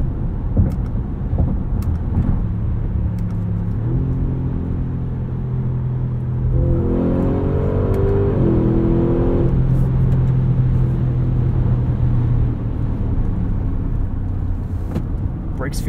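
A 2022 Audi SQ7 in its loudest engine setting driven on the road, with a deep steady engine drone and interior rumble that rises into a revving climb midway. It continues for about sixteen seconds.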